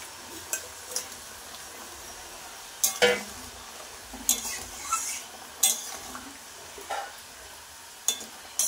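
Fish pieces go into a boiling Bengali fish curry with potatoes: scattered clinks and scrapes of a utensil against the pot, a few louder splashy knocks, and a soft bubbling sizzle underneath, with no speech.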